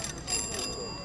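The original bell on a vintage bicycle rings in a few bright, quick metallic trills, fairly close, with a voice talking faintly underneath.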